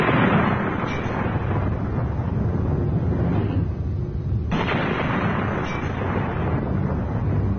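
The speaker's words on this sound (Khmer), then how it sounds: "ពួកវាបំផ្ទុះរបាំងកែវហើយលោកនាយ" An explosion shatters a glass barrier with a loud, sustained roaring blast, broken by sharp cracking bursts partway through and no voices.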